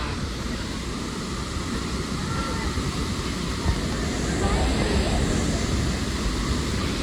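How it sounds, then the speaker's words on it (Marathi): A large waterfall at Jawhar roars as a dense, steady, loud rush of broadband noise with no breaks, close by and filling the whole scene. "तुम्ही समजू शकता किती मोठा धबधबा आहे हा."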